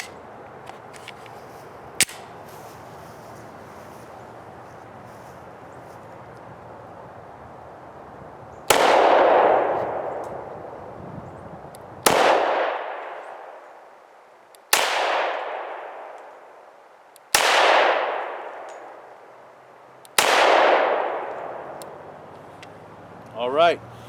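A Smith & Wesson M&P 10mm pistol fires five loud, sharp shots spaced a few seconds apart, each ringing out outdoors, with a couple of faint clicks and handling noises before the first shot.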